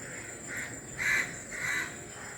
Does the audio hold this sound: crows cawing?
yes